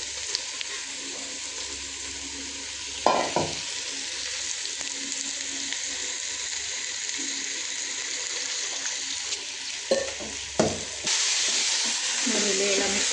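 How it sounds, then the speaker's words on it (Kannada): Chicken dum biryani mixture being stirred in a simmering pot, a steady bubbling sizzle throughout with a few scraping knocks of the spoon, no talk over it. "ನೋಡಿ ಇಲ್ಲಿ ಎಲ್ಲ ಮಿಕ್ಸ್ ಮಾಡಾಕ್ತೇನೆ"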